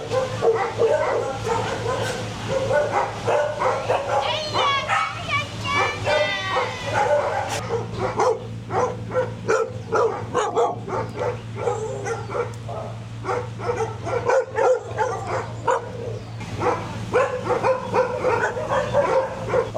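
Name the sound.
dogs barking at a dog shelter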